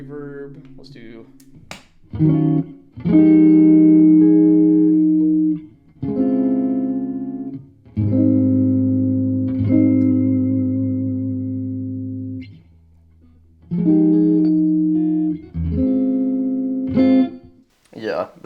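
Electric guitar chords from a Fender Tone Master Pro with a studio reverb setting, played in several phrases with pauses between, each ringing out with a roomy reverb tail; loud and close.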